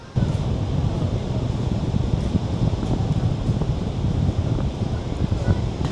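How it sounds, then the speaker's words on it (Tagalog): Strong wind gusting across Cloud 9 beach on Siargao at low tide, a steady loud roar with microphone buffeting and faint surf behind it, no voices heard. "Grabe, ang lakas ng hangin."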